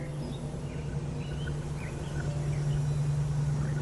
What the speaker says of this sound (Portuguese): É uma fazenda de galinhas.